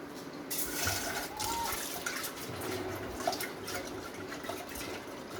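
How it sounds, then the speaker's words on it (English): Tur dal being rinsed in water in a home kitchen, a steady soft wash of sloshing and trickling water with small drips, moderately close and continuous, with no talk. "Now I'm going to wash the tur dal."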